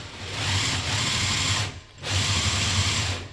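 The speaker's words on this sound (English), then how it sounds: "make sure all my motors were responding and running at very similar speeds" Electric motors driving a mecanum-wheeled chair whine and whir loudly up close, running steadily, dipping briefly near the middle, then spinning back up.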